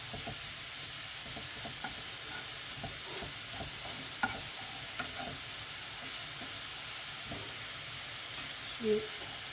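Onions fry for a beef and onion dish: a soft, steady sizzle in the pan with occasional stirring scrapes and clicks, fairly quiet throughout.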